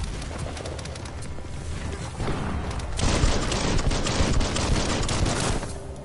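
Rapid continuous gunfire in Biomutant, a dense steady rattle that grows louder partway through and fills the whole stretch.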